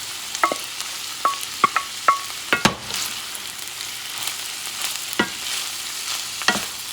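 A spoon stirring rice with chorizo in a frying pan, with a string of close scraping clinks and taps over a low sizzle, irregular and fairly quiet.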